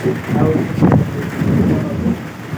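Heavy rain and a windy thunderstorm sweep over Mahendragiri, making a loud, continuous roar with a low rumbling surge, while gusts batter tin-roofed shop shelters.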